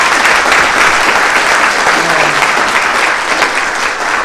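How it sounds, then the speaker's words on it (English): Audience applause fills a school board meeting, steady dense clapping from a room of attendees that holds at an even, loud level throughout with no break. "So can we give them a round of applause?"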